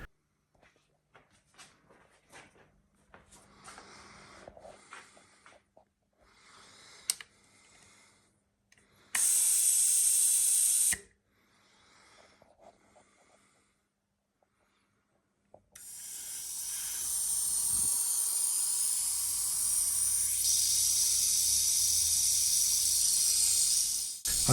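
Supplementary coolant system on a machine tool spraying mist and fog at low pressure: short clicks and handling noise give way to a brief loud hiss, then a long steady spray that goes on to the end.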